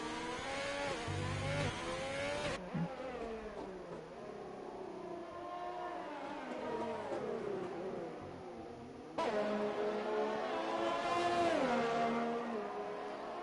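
Race cars lap the Bahrain circuit in a racing video game, their high engines whining and shifting pitch through gear changes, with one car's drone cutting away and another swelling in over the steady roar.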